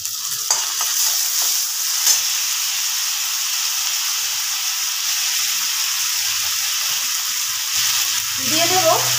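Chopped onion and green chilli frying with ginger-garlic paste in a pan: a steady, close hiss of sizzling oil with bursts of stirring, growing busier near the end.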